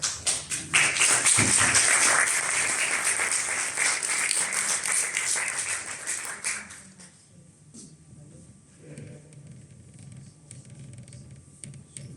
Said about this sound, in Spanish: Cuando Pilar y Miguel Ángel terminen, aplaudiremos